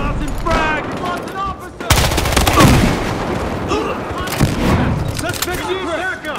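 Gunfire in the Battlefield Hardline video game during a police-versus-suspect firefight at a mini mall: dense bursts of automatic shots and loud blasts, with shouted voices throughout.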